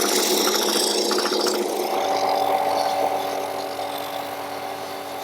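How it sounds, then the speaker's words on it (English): A belt sander grinds the ends of a turned wooden sphere for a desk clock, a steady loud whirring hum that holds throughout and eases slightly toward the end. "I'll go over to the belt sander and I'll just have to take care of the ends on there"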